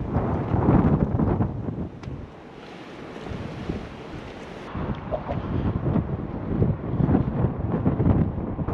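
Strong wind buffets the microphone while crossing a bridge on a Scotrail train route between Inverness and Kyle of Lochalsh, a steady loud roar with gusty swells and no talking.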